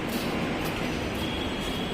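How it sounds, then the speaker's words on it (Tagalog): A light-rail train at the Anonas LRT station, a steady broadband rumble of rolling wheels and car noise holding at a constant loudness throughout, with no talk. "Dito tayo sa LRT station sa may Anonas."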